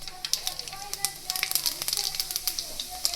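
Mustard seeds and cumin sizzling in hot oil for Gujarati methi bhaji, a quiet, steady frying hiss with scattered sharp crackles and pops throughout, heard alone.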